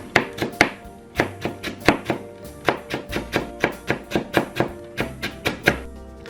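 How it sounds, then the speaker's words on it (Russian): Brisk, even knife strokes finely chop fresh herbs for meatballs on a board, a quick steady rhythm of sharp taps close by with no talking. "Зелень просто мелко нарезаем."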